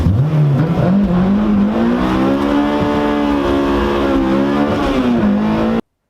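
A Honda sports car engine revs up high to 9,000 rpm and holds a screaming, rising whine for several seconds before cutting off abruptly; loud and close.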